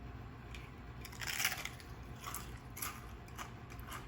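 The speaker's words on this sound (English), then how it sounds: "Crunch, it's like a Dorito." A low-carb Doritos-style corn chip being bitten, giving a few brief, crisp crunches spread over a few seconds, fairly quiet and close, with no talking.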